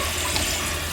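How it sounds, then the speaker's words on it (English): A household toilet being repaired for a leak and constant running flushes with a steady, loud rushing of water, an even broadband wash throughout the short moment, with no voices. "It's another flush."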